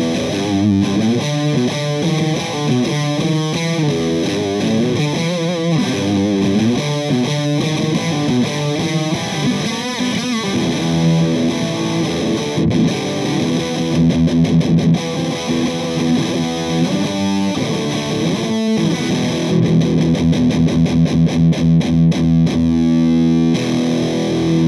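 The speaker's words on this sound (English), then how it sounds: "A great distortion pedal." Heavily distorted electric guitar plays continuously and loudly, chugging riffs and sustained chords with a thick, saturated tone and no talking.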